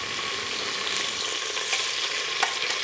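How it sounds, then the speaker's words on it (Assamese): Marinated chicken sizzles in a pot of golden-brown fried onions for a one-pot chicken pulao, a constant close frying hiss broken by light stirring scrapes, with no talking. "এতিয়া এই মেৰিনেট কৰি থোৱা মাংসখিনি দি দিম ইয়াতে"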